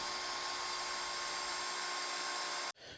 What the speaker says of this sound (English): A quick and easy cut on the bandsaw.